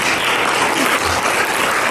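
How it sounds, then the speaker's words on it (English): An audience at a university symposium keynote breaks into loud, sustained applause, a dense, even wash of clapping hands with no pauses. "You can clap."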